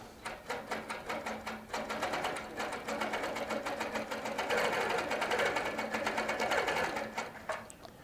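Baby Lock sewing machine stitching handmade cording onto a quilt with a couching foot, a rapid steady run of needle strokes that speeds up, holds, then slows and stops, close and alone.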